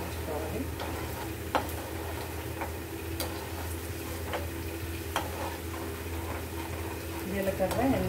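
Tempering of cumin, dried red chillies and crushed raw garlic frying in oil for an amla pickle, a steady low sizzle with occasional sharp ticks and stirring clinks throughout, close and fairly quiet.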